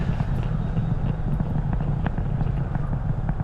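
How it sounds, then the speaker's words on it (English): SpaceX Falcon Heavy rocket with Merlin 1D engines throttling back up after max Q, heard from a distance as a steady, heavy low rumble with crackling bursts, sustained and fairly loud throughout. "M1D engines throttling back up."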